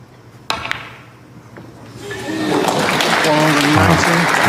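Snooker crowd applause swelling from scattered claps into sustained, loud clapping at a Northern Ireland Open match, preceded by a sharp ball click, with a commentator talking over it.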